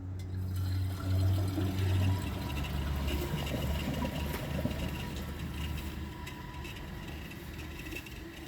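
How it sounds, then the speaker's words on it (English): Water pours into the bowl of a clogged 2012 Jacuzzi Perfecta toilet, a close, steady splashing and gurgling that starts loud and settles into a softer trickle and swirl. "I'm going to add some water to the bowl"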